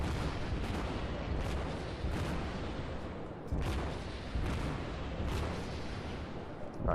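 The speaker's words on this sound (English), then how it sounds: "So firing off a shot, see where it lands." Naval gunfire from a cruiser in the World of Warships game, the St. Louis, heard as repeated heavy booms over a constant dense rumble, with several sharp blasts spaced across the stretch.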